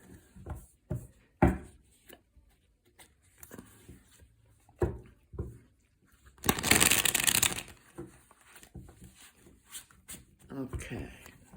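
Tarot cards being shuffled by hand, with a dense burst of papery riffling in the middle, shorter shuffling rustles around it, and a person talking in between.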